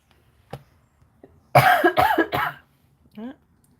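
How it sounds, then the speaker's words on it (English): A woman coughs in a quick cluster of three harsh bursts, with a fainter throat sound before and a short voiced bit after, close and loud in a quiet room. "Ah, coughed."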